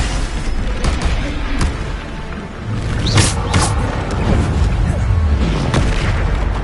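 Repeated Bombarda spell blasts from a Hogwarts video game, several booming bursts with crackling tails landing in quick succession amid steady background noise.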